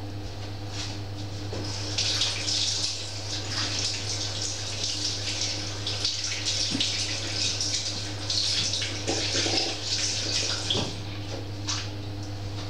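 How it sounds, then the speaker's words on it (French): Steady running tap water pours into a sink as hands are washed under it, a continuous broadband splashing rush with small shifts in tone, close by and alone, with no talk over it. "Attendez, je vais me laver les mains."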